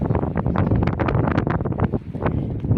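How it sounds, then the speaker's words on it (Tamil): Strong wind buffets the microphone at a hilltop Murugan temple near Moolapalayam, Karur, a loud continuous roar with gusty surges and rumble throughout, no voices. "சீலில் ரெக்கார்ட் ஆகிட்டு அந்த காற்றடிக்க சவுண்டை மட்டும் கேட்டு பாருங்கள்"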